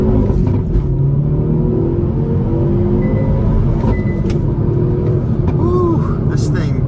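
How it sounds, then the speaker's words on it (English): A 2022 Hyundai Veloster N with a six-speed manual accelerating off the line, heard as a steady, loud low engine drone and rumble from inside the cabin, with a voice speaking over it. "let's try an acceleration off the line"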